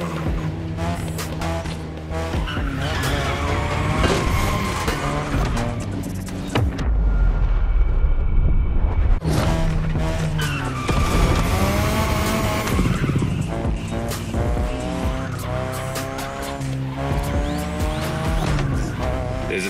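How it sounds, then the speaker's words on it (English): A 2002 third-generation Mazda RX-7 with a rotary engine races in The Crew Motorfest, its high-revving whine climbing and dropping through gear changes, with tire squeal and skids, loud and continuous throughout. "Tonight, your ride is a 3rd Gen 2002 Mazda RX-7. Lightweight, compact, a sick rotary engine, and one hell of a look."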